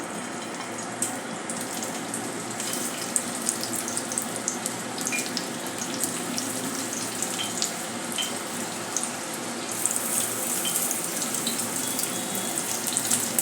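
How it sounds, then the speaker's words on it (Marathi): Steady, dense crackling hiss of bitter gourd frying in hot oil over medium flame, continuous and fairly loud throughout, with no talking. "मीडियम फ्लेमवर आपण कारले तळून घेत आहोत।"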